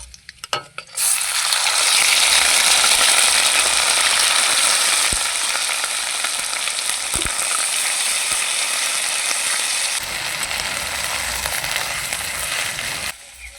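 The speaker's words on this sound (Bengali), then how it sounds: "মশলাটাকে ভালো করে ভেজে নিয়েছি" A spice paste of ground ginger, dried and green chilli with panch phoron frying in hot oil, giving a loud, steady close-up sizzle that runs for the whole stretch, with a few sharp stirring clicks.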